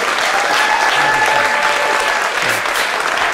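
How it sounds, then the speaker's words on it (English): An audience applauds after a performance of the second movement of Brahms's sonata for clarinet and piano, a steady, full round of clapping that holds at an even level from start to finish. "could we have a little applause for that?"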